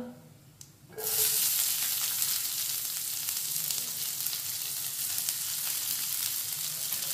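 Finely chopped onion hits a hot pan and sets off a loud, sustained sizzle that keeps going steadily for several seconds, close and alone after a quiet start.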